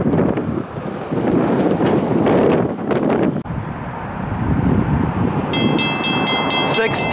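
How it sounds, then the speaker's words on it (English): An eastbound Norfolk Southern freight train rumbles past at night after a long wait, a loud continuous roar with wind buffeting the microphone, and a horn sounds near the end. "Here comes another eastbound after about a 1 hour and 10 minute wait."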